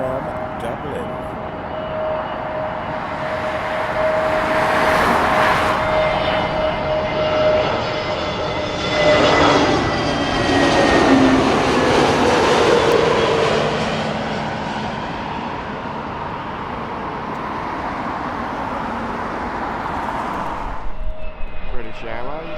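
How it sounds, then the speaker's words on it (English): Aer Lingus Airbus A320neo from Dublin landing at London Heathrow: a rising whine and swelling engine roar builds over several seconds, peaks in the middle, then fades away. "Aer Lingus, A320 Neo, coming in from Dublin."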